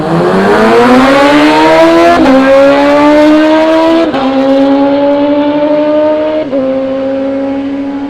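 Drag racing motorcycles launch down the strip at a street series meet, loud, high-pitched engines screaming and climbing through rapid gear changes, with several sharp shift breaks before the roar fades into the distance.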